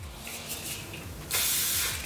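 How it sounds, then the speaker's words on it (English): A short burst of hairspray hisses loudly and steadily onto hair after a moment of quiet rustling, close to the listener. "I'm going to spray the back of my hair as well."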